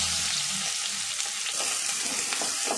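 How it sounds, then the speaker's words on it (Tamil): Sliced onion sautéing with mustard seeds in hot oil, a steady close sizzle and crackle with a few soft stirring scrapes, for a masala idli. "வெங்காயம் நல்லா வதங்கட்டும்"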